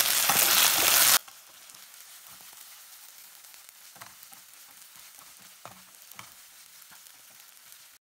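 Ginger garlic paste sautés in a pan with a loud initial sizzle that drops after about a second to a quieter, crackling fry with occasional stirring scrapes, close and without speech.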